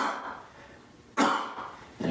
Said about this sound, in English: I want you to cough vigorously.